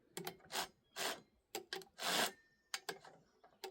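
A Holzfforma G260 chainsaw being worked on makes repeated short rubbing, grinding bursts with gaps between them as it binds up, close and fairly loud with no talk.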